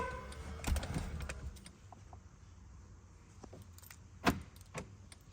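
A 2012 Mercedes C180 being locked: a few soft mechanical clicks and rattles, then one sharp close lock clunk and a fainter follow-up click, all over a quiet background with no talking.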